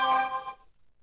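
Bell ding sound effect, a single bright metallic strike with ringing overtones that decays quickly into silence.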